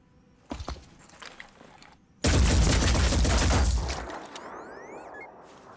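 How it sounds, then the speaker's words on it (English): Gunfire in the Phoenix Point tactical game tears through building cover: a couple of faint early thuds, then a loud, dense burst of shots and impacts lasting about two seconds before fading into quieter debris and effects. "our shot broke cleanly through the cover and some of the remaining bullets were also able to hit our target"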